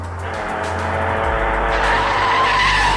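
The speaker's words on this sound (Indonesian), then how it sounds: "dia malah ditabrak oleh sebuah mobil" Car tires skid and squeal loudly on the road in a film scene where the vehicle strikes a pedestrian, a sustained screech over a low engine rumble for about three seconds.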